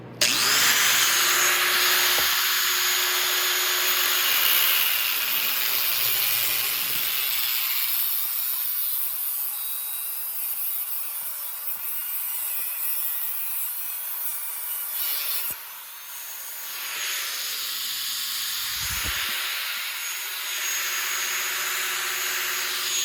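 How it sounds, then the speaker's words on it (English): A power tool cuts through a motorcycle exhaust pipe for a custom exhaust, a steady loud grinding, rubbing whine running close and continuous with a brief dip midway, no talk. "So I'm going to cut the pipe straight because I want it to go up straight to the manifold."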